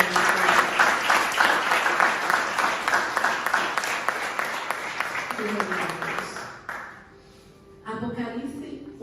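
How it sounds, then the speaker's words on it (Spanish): Church congregation applauds the Lord in a loud, full burst with a steady pulsing beat that fades out after about seven seconds, followed by a brief quiet and then a voice speaking. "Un aplauso al Señor"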